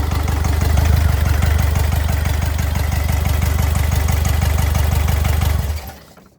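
Diesel engine running rough on three cylinders with one not firing, a steady loud uneven chugging with a pulsing knock that holds, then cuts out and dies away near the end.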